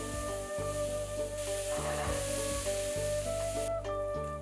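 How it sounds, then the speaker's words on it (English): Onions, garlic, carrots, celery and white mushrooms frying in oil in a pan, a steady close sizzle broken by repeated stirring scrapes and clatters at a rough rhythm, with no talk. "Use the remaining oil to fry onions, garlic, carrots, celery, and white mushroom."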